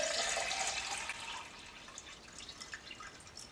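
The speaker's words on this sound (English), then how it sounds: "I've got a jug of water and I'm gonna fill this up." Water pouring from a jug into a bottle, a close, steady splashing gush that gradually softens into lighter trickling and dripping.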